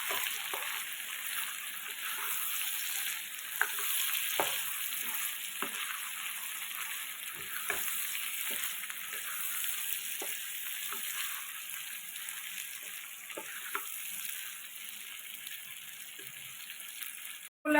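Kashmiri chilli and chickpeas fry in a pan with a constant bright sizzle, broken by repeated scraping stirs of a spoon against the metal over many seconds, no voices.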